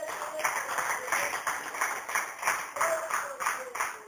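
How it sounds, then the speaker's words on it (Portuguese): Congregation in a church service clapping together in a steady rhythm, dense repeated claps filling the space at moderate loudness, with a faint voice mixed in. "Palmas para o Senhor Jesus."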